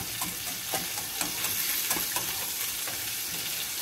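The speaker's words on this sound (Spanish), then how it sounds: "Lo que vamos haciendo con el molinillo es quitándole un poco los grumos" A wooden molinillo whisk churns a thickening yam soup to break up lumps, making a continuous close bubbling, sloshing stir with rhythmic clicks as it turns against the pot.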